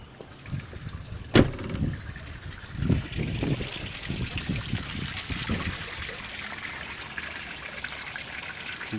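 Water trickles and splashes steadily through a Ford 6.0 engine oil cooler during a backflush, a continuous pouring flow with a sharp clank near the start and scattered low knocks throughout.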